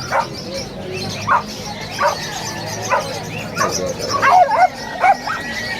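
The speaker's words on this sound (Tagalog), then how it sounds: "Aso, syempre." A dog at a pet market barks and yips in short, irregular bursts, fairly close, with a few whimpering notes between the louder barks.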